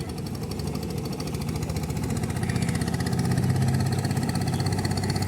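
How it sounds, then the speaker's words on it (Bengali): Motorboats speed along the flooded Jamuna River at Kalitola Ghat, Sariakandi, their engines throbbing in a steady, pulsing drone that swells slightly louder toward the middle and stays continuous throughout, with no talk over it. "নৌকাগুলো খুব দ্রুত কিন্তু চলতেছে"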